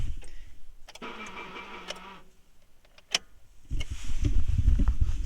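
A Honda Civic EK with a failing starter motor cranks, pauses briefly, then catches and settles into a close, rumbling idle.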